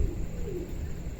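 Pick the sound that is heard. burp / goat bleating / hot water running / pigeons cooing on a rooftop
pigeons cooing on a rooftop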